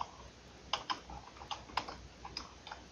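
Keys on a computer keyboard click out a password in a quiet room, in a scattered run of separate taps of varying strength at close range.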